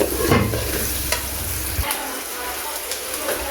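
Spices fry in oil over browned onions as a utensil stirs them, a loud close sizzle with scraping strokes, then a steady hiss, no talk.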